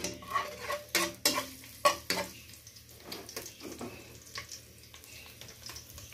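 Pork menudo with potatoes and carrots is stirred in a pan: a utensil scrapes and clacks against the pan in quick, irregular strokes over a soft sizzle, close by.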